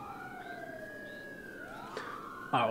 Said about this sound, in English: All units currently on scene, turn off your sirens.